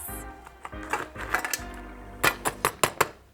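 Ice cubes dropped into a Texas rodeo spring cocktail, heard as a series of sharp, close clinks and rattles that come faster and louder toward the end.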